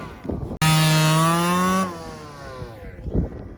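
Two-stroke gas-powered RC rally car engine revving hard, a loud buzzing whine that holds high for about a second, then drops and fades as the car pulls away into the distance.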